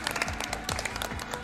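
A brief patter of applause from a crowd at the Calithon 2019 speedrunning event, dense and fairly even, heard at a moderate distance.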